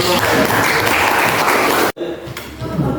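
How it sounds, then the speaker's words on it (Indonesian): A classroom audience claps together in dense, even applause for about two seconds, then it cuts off abruptly and a quieter room with a voice follows. "Luar biasa, tepuk tangan."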